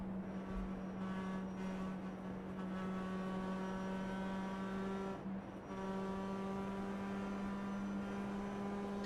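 Race cars at Daytona roll under caution behind the pace car, a steady droning engine hum with a sustained even pitch and layered tones, one brief dip midway, continuous and moderately near without talk.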